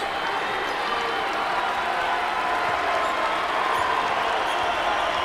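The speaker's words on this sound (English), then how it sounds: "Crowd trying to get behind Davidson" Basketball arena crowd at a UMass versus Davidson game roars steadily behind Davidson, a dense, continuous wall of cheering and scattered clapping with no break, loud and close throughout.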